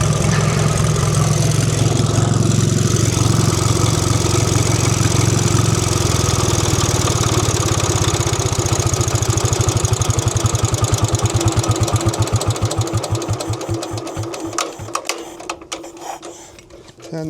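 An old J.A.P. single-cylinder engine chugs loudly and steadily at idle, then its firing beats slow, space out and sputter to a stop near the end.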